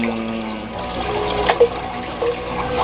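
Water gurgles and trickles as a siphon drains an aquaponics fish tank, a soft continuous flow with a few small splashy bursts, close by and fairly quiet, with no voices.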